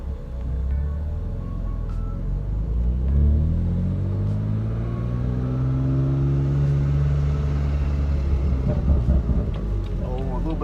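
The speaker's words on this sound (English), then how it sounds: "Oh, a little bit of burble there." A BMW M3 with a Stage 2 tune, downpipes and the stock muffler drones loudly from inside the cabin as it pulls through rising and falling revs. A little burble and crackle follows near the end, with some faint talk.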